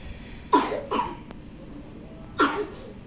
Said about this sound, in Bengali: কাশি পাচ্ছে